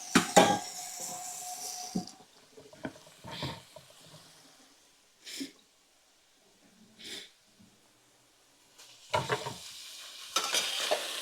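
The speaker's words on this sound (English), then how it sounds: "get that garlic mixed in there with them vegetables" Garlic and vegetables are stirred in a pan for drunken Italian noodles, with scattered scraping strokes and soft sizzles spaced apart, some louder near the start and end, separated by quiet gaps, with occasional breathing but no talk.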